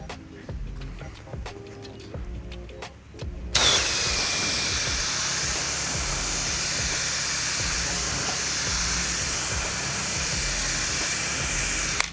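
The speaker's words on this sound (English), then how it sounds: "I'm just gonna go ahead and rinse away that product that was sprayed back here" After a few quiet seconds, a pressure washer bursts into a loud, continuous hissing spray while rinsing cleaning product off a house's siding, with an engine running underneath.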